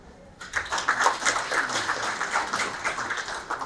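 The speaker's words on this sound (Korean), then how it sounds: "환영의 박수 부탁드립니다" Applause from a seminar audience at an environmental leaders' forum in Korea welcoming a presenting professor, steady dense clapping that starts abruptly after a brief pause and continues evenly throughout.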